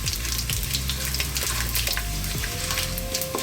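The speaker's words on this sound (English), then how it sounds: "let's drop in our curry leaves and the cumin seeds." Curry leaves and cumin seeds sizzle and crackle steadily in hot oil, loud and close throughout, with faint background hum and a few tonal clinks.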